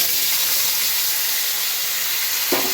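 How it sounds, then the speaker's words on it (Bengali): Cumin seeds sizzle in hot oil in a pan, a steady, close, bright hiss throughout, with a brief louder crackle near the end. "এদিকে তেল বসিয়ে জিরে ফোড়ন দিয়ে দিয়েছি, গরম হয়ে গেছে তেলটা"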